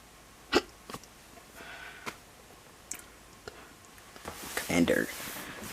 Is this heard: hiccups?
yes